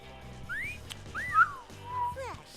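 Someone playing SpongeBob SquarePants: Battle for Bikini Bottom tries to whistle, producing a few thin, wavering sliding tones over game music and background noise, faint and uneven.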